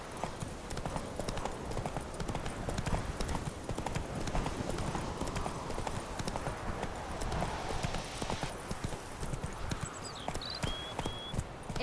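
Horse hooves in Witcher 3: Wild Hunt, a rapid, continuous clip-clop of galloping close by, steady throughout, with faint bird-like chirps late on.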